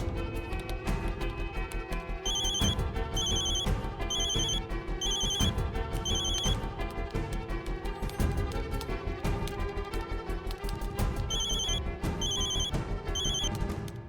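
A telephone rings in repeated electronic bursts over a dense, loud dramatic music bed in a Hindi TV serial police-station scene, with no voices.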